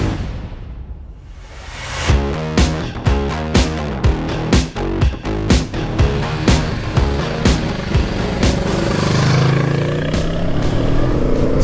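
A 2022 Kawasaki Z650RS motorcycle engine runs while riding on the road. It revs up in rhythmic pulses, then settles into a steady, loud drone mixed with wind rush. No one speaks.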